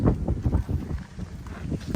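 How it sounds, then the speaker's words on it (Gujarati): Strong wind buffets the microphone at the Chokhi Dhani venue in Rajkot in a continuous low, roaring rumble that swells and dips in gusts, with no voices. "બહુ પવન છે."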